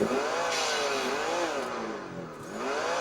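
A mini RC sound module plays a simulated truck engine with an exhaust brake, a continuous buzzy synthetic drone whose pitch wavers up and down and then dips briefly near the end.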